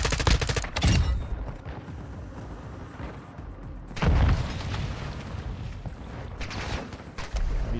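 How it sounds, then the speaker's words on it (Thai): Gunfire in the Call of Duty Modern Warfare II DMZ video game: loud bursts of rapid shots and booms crackle at the start, again midway and at the end, with rumbling reverberation in between. "มีเสียงปืนอีกแล้ว"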